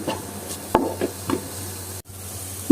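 Cooking oil going into a pan to cook fish gives a steady soft hiss, with a few wooden knocks and scrapes from stirring.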